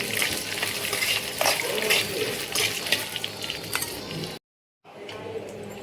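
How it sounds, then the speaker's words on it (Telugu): Dried red chillies sizzling and being stirred in oil in a pan, a continuous loud frying crackle with scraping, cut off by a brief silence before the sizzle resumes. "ఎండుమిర్చి ఒక స్పూన్ ఆయిల్ పోసుకొని ఎండుమిర్చి వేయించుకోవాలి"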